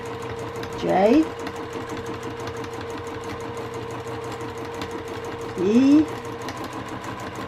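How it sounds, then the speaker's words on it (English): Sewing machine stitching cursive lettering onto a vintage hankie pillow, a steady close mechanical hum throughout, while someone speaks single letters twice over the stitching. "I'm just going to come down here, and I'm just going to sew in cursive my name."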